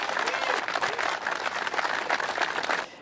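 Farmers at a machinery fair in Zaragoza, gathered in protest, break into applause as a tribute. A dense, steady patter of many hands clapping carries on for a few seconds with no talk over it.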